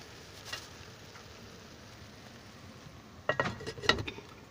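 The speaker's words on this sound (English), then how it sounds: "I'm going to put my lid on it." A pot lid set down on a pot on a stovetop while a deep-dish pizza casserole cooks, giving a short cluster of close metallic clinks and rattles over a quiet background.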